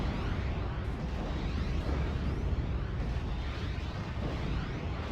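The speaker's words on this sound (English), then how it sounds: "We'll be firing off another barrage at the Jagdpanzer." Artillery barrage fired at a Jagdpanzer in the WWII strategy game Steel Division 44; a dense, continuous roar of overlapping explosions and booms, loud and sustained without any voices.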